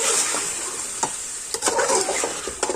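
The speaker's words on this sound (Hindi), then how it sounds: "और इसको इसमें हम अब अच्छी तरह मसाले में मिक्स करेंगे।" Tender beef trotters are stirred into sizzling masala in a pot, a steady frying hiss broken by several sharp scrapes and clacks of the spoon against the metal.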